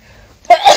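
A single quick sneeze, a sharp burst of breath and voice lasting under half a second after a moment of quiet.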